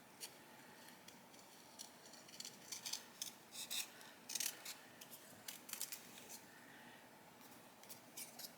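Scissors snipping around a die-cut paper shape from a floral and frame die set, a close, quiet series of irregular crisp cuts and paper rustles, with no talking.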